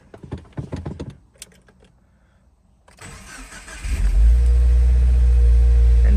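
A crashed Subaru WRX cranks and fires up, its engine settling into a loud, steady idle rumble after a few seconds of quiet clicks and rustling inside the car.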